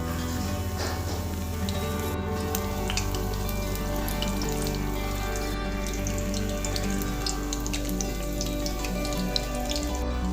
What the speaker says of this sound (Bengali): ফুলকপির টুকরোগুলোকে বেসনের গোলায় ডুবিয়ে গরম তেলে ভেজে নেব